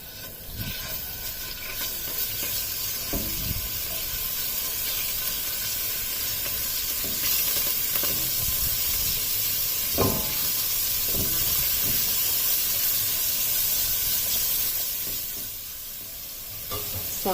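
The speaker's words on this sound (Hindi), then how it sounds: "इसे 1 से 2 मिनट तक ही फ्राई करना है ऑयल में, लहसुन और अदरक के पेस्ट को।" Garlic and ginger paste fries in oil in a pan, giving a steady, close sizzle and hiss with occasional stirring scrapes, with no talking.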